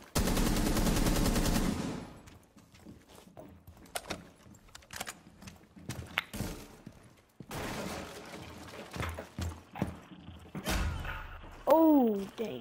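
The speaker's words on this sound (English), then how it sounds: "Oh, dang, she shot me." Video game gunfire crackles in a dense automatic burst at the start, followed by scattered single shots and thuds, with a player talking over the action throughout.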